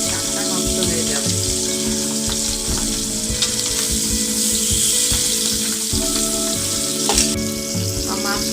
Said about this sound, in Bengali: এখন আমার তেলটা গরম হয়ে গেছে, আমি মাছটা ভেজে নেব।